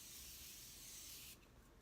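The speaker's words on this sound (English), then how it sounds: "I give it a nice spray." Morphe setting spray misted onto a face after foundation, a single soft, close hiss lasting just over a second and then cutting off, with no talking.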